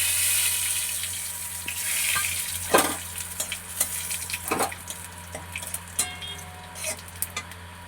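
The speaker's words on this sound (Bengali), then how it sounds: "ফোড়নটা আমার হয়ে গেছে" Black cumin, white cumin, cracked cardamom, cloves and cinnamon sizzling in hot oil for a tempering, a continuous frying hiss with scattered pops and a few sharper crackles and stirs.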